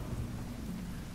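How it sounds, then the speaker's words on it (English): Loud, steady rumbling thunder with heavy rain fills a stormy scene in the shooter game The Division 2, a continuous low roar with no speech over it. "that thunder is loud"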